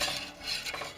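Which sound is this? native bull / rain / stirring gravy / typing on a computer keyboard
stirring gravy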